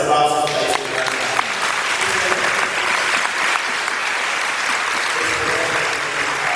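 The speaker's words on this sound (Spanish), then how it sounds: "Fuertes aplausos para este gran día." Loud, dense applause from a parish congregation at a perpetual adoration celebration, sustained clapping throughout with a brief bit of other sound at the very start.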